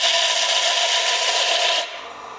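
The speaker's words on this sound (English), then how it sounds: "So I'm hoping I can just sand this off to make a flat surface." Sandpaper rasping steadily over a knife handle to flatten its surface, a close, loud continuous scrubbing for nearly two seconds before it stops.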